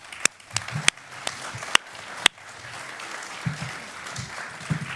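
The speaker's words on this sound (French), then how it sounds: "On les applaudit" Audience at a conference applauding the participants, heard as a few sharp separate claps over a soft murmuring room, fairly faint and sparse rather than a full ovation.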